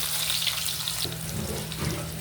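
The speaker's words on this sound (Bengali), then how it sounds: "তেলটা গরম হয়ে গেছে দিয়ে দিলাম আস্ত জিরা দিয়ে দিলাম পেঁয়াজ কুচি" Whole cumin seeds and chopped onion fry in hot oil in a wok, giving a steady, close hiss and crackle that runs evenly throughout with a low hum beneath.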